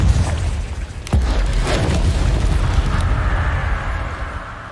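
A fiery Confringo spell blast from the Hogwarts Legacy video game bursts loudly near the one-second mark, then a dense, roaring rumble carries on for several seconds without voices.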